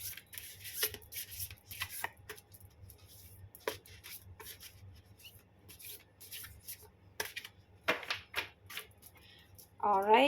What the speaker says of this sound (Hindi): तो कार्ड्स हो गए हैं शफल